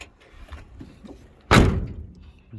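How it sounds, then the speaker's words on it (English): A classic mid-1960s Ford Mustang door swings shut with a single solid, loud thump, preceded by faint movement and quiet background noise. "Door shuts good."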